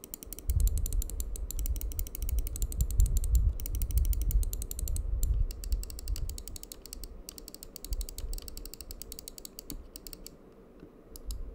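Dense, rapid clicking and clacking from an Xtrfy MZ-1 wireless gaming mouse, close and crisp, with a rattling mechanical texture and low thumps underneath; no one speaks.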